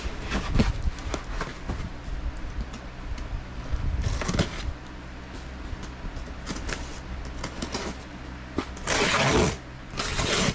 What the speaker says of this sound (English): I have a fan running in here because the AC's not on.